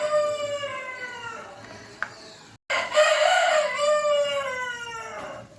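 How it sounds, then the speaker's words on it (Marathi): Two drawn-out rooster crows, the second louder and closer, separated by a brief silence and a faint click. "मस्त कोंबड्याची बांग पण आपण ऐकलेली आहे"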